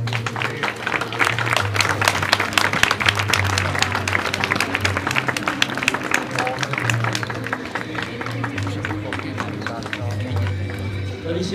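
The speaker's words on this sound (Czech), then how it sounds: "Poprosíme o čestné kolečko na pravou ruku a potlesk diváků." Sustained crowd applause at a Shagya Arabian horse show in Zduchovice, dense clapping filling the whole stretch, with a low rumble and a voice speaking over it.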